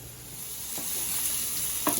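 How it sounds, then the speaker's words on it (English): Steady sizzling of peppers and vegetables sautéing in a pan for quesadillas, a continuous crackle with a few stirring scrapes near the end, close and clear. "As you can hear, this will start to sizzle nicely."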